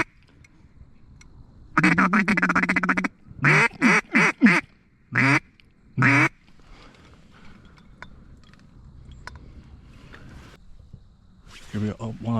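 Mallard ducks quack in loud, nasal bursts during a Wisconsin duck-opener hunt, with a long run of calls followed by several shorter clusters and a final burst, close and prominent above quiet outdoor background.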